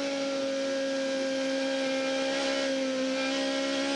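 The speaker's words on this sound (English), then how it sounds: "Let's let the Aussie race car engine do the work." An Aussie Racing Cars race car at Queensland Raceway heard onboard, its engine holding a steady, loud, sustained drone with strong tonal harmonics for the whole stretch and no voices.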